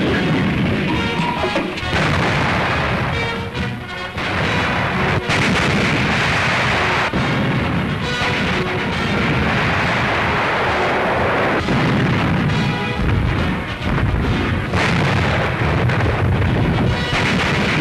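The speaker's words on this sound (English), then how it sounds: "guns firing in reply." Naval guns and shellfire during a World War II convoy battle on the run to Malta: a dense, continuous barrage of heavy gunfire and bursts, loud and sustained throughout with no talk.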